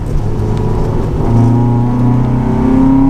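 A modified Honda engine revs hard and close, its tone climbing steadily for about three seconds in one loud, continuous pull with no talking.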